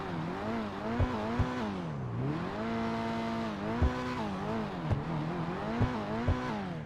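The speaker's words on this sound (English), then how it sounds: "it sounds like a proper sports car" A Jester RR sports car engine in GTA 5 Online revs up and down repeatedly with a rich, loud exhaust tone, punctuated by brief sharp pops, in a steady continuous run.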